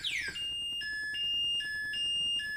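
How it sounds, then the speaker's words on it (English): An anti-theft warning alarm on an Aniioki A8 Pro Max e-bike sounds briefly: a series of clear, repeating high electronic beeps with short gaps between them, close and alone. "the warning alarm goes off just for a few seconds"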